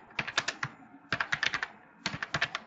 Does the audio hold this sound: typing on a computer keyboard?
yes